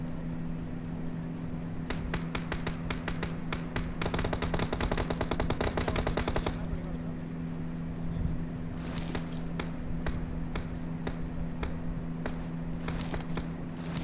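Rapid automatic gunfire from the mobile shooter game BGMI rattles in sustained bursts, with a dense volley midway and sharper scattered shots later over a constant low game hum.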